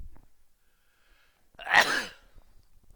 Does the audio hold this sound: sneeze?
yes